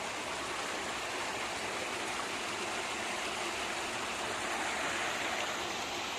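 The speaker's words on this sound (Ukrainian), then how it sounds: "можна постояти, подивитися на отакий маленький водоспадик" A small waterfall in a ravine pours in a constant, dense rush of falling water, close and steady throughout with no voices.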